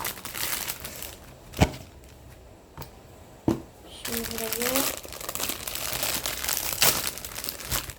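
Plastic snack packet torn and opened, sharp crinkles and rustles with a couple of distinct snaps, close and fairly loud, under occasional speech.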